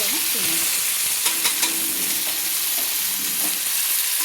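Chopped onions fry in hot oil after the whole spices for chicken do pyaza, a steady close sizzle with occasional stirring clinks and scrapes.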